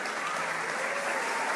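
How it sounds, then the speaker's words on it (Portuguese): Audience at a church conference applauds, a dense, even wash of clapping from a large crowd that holds steady throughout, heard from a slight distance with no voices over it. "Você consegue aplaudir Jesus bem forte onde você está?"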